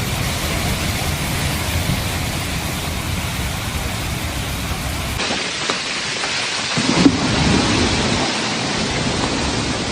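Heavy rain hisses steadily through a thunderstorm, with a deep rumbling of thunder underneath and a brief louder crack near the seventh second; the rain carries on continuously without a break.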